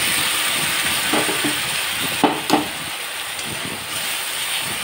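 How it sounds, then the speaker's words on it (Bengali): Ground spice paste sizzles in a pan with tomato for a fish curry, a steady close hiss throughout with a few soft knocks of stirring. "এটাকে নেড়ে ছেড়ে এখন এটা ভাজা হতে থাকুক।"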